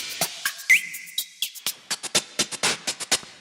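A sequence of whistle-like tones processed through Ableton 12's frequency shifter, with pitches sliding freely off the semitone grid, played as a string of short, evenly spaced bursts with no voices.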